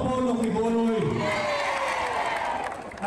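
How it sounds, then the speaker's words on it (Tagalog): A large crowd at a political rally shouts and cheers, a dense roar of many voices with rising whoops that swells early and then gradually eases off. "Narinig nyo ho yung hiyawan na yon."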